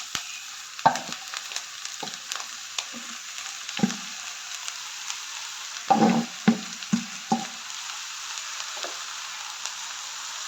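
Chopped leaves for pathila thoran, the ten-leaf dish, tossed into a pan of sautéed shallots: a steady soft sizzle broken by repeated sharp spatula clanks and scrapes as the greens are stirred, close and alone.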